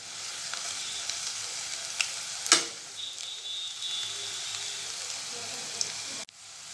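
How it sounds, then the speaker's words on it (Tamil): Banana flower pakoda deep frying in hot oil, a steady loud sizzle throughout with a few sharper pops and bubbling bursts, heard close and alone without talk. "நல்லா ஃப்ரை ஆயிடுச்சு எடுத்துடலாங்க"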